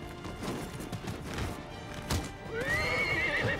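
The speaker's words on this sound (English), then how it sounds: "Get it, horse!" Horse in the video game Nioh, hooves clip-clopping at a gallop with thuds of battle, then a loud, close whinny rising over the last second.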